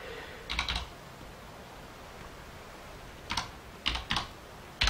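Fast typing on a computer keyboard in a room with steady background hiss, coming in short separate bursts of rapid clicks with quiet gaps between them, close and clear.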